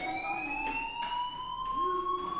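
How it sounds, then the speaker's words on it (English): A fire alarm sounds inside the Life is Strange video game, a steady electronic tone with bright overtones holding continuously and fairly loud throughout, with faint background game ambience beneath it. "Hey, do you hear that fire alarm?"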